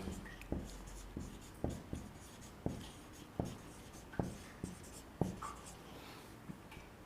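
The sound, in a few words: writing on a board during a lecture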